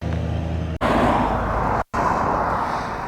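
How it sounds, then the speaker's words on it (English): A golf buggy drives past close by on a climbing road, a loud, steady broadband motor and road rumble with two brief dropouts, holding strong before fading slightly at the end. "It's a bloody golf buggy."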